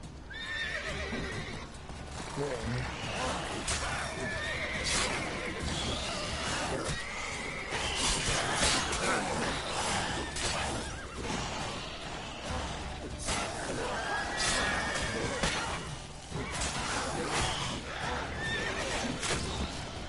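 Horse whinnies and neighs repeat over steady clip-clopping hooves in The Witcher 3, with crashes and game noise filling the background throughout.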